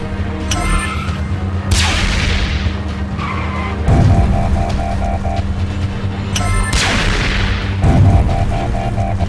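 Cartoon battle from Transformers Rescue Bots, with loud rapid shooting bursts, booms and skidding, screeching vehicle sounds in a busy, continuous action mix.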